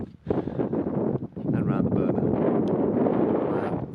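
Wind buffeting around a van in snowy winter Scotland, a constant loud roaring gust against the microphone with a voice talking underneath.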